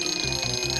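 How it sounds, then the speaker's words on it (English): An alarm goes off in a toy tiny house, a steady electronic tone with a rapid pulsing beat, fairly quiet and heard alone. "Let's set the alarm!"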